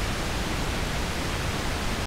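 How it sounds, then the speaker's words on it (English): Steady pink noise, a smooth, even hiss heavier in the lows, like soft rushing static, holding constant and loud before cutting off abruptly at the end. "which is called pink noise, that's flat to human hearing"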